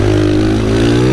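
A supermoto motorcycle roars at full throttle on the Oschersleben race track, a loud, continuous onboard engine note rising steadily in pitch.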